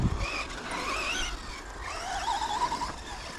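Traxxas Slash 4WD brushless RC car running on an indoor carpet circuit, its high electric motor whine rising and falling continuously at close range, with faint tyre squeal through the corners.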